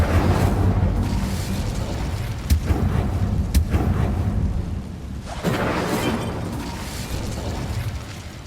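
The Incendio fire spell in Hogwarts Legacy erupts in loud, roaring bursts of flame, with a couple of sharp cracks partway through, over continuous rumbling game ambience.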